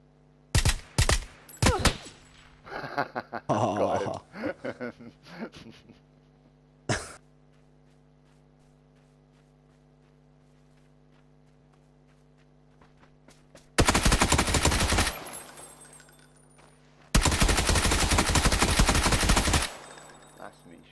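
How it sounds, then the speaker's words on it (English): Gunfire in a PUBG match: several sharp shots early, then two long, loud bursts of automatic fire near the end, with quieter sounds in between. "Oh, good shooting, man."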